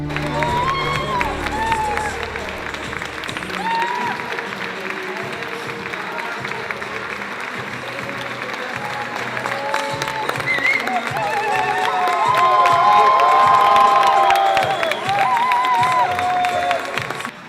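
A graduation ceremony crowd claps and cheers as diploma recipients are called, with scattered whoops and voices over a bustling hall, swelling louder toward the end.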